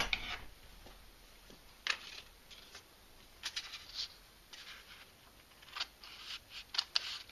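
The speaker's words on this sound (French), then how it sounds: "Je vais découper ce qui dépasse avec mes ciseaux." Scissors trim the overhanging paper edge of a handmade New Year greeting card, giving a series of soft, close snips and crisp clicks at irregular intervals over quiet background.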